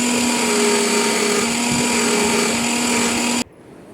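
An electric juicer whirs steadily while juicing oranges, a loud close motor drone with a constant pitch that cuts off abruptly near the end, leaving faint room noise.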